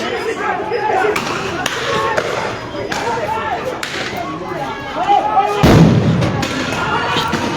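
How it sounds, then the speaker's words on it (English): Sharp gunfire cracks and heavy thuds ring out amid a crowd during police shooting at a chaotic scene, with several sharp reports and a loud burst near the end over constant crowd noise and shouting. "The police is shooting everyone around."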